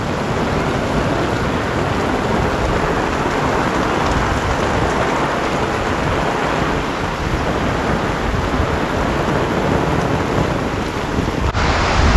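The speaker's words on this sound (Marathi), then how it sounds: "मोठा आला पाऊस" Heavy monsoon rain pours down steadily over a Konkan village in Niwali, a dense, loud, continuous roar of rain on surfaces that holds unbroken throughout with no voices.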